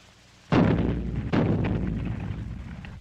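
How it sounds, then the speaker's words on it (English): Two booming cannon shots from a 1929 Lubitsch musical film, the first at about half a second and the second roughly a second later, each loud with a long rolling decay. "Do you hear those cannons?"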